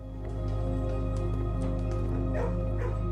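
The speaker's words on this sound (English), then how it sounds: "Hello, puppies." Puppies in the Blue Prince video game bark and yip in short, repeated bursts over a steady background hum of game music.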